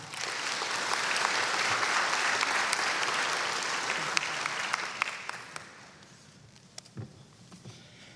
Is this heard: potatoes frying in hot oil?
no